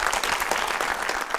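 A studio audience of children claps for the youngest performer, a dense continuous round of applause close and fairly loud, filling the whole short moment with no voices over it.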